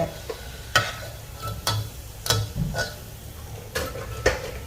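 Rice crackers deep-frying in a pan of hot oil: a low bubbling sizzle broken by sharp, irregular clinks and scrapes of a utensil against the pan, close up, with no talking.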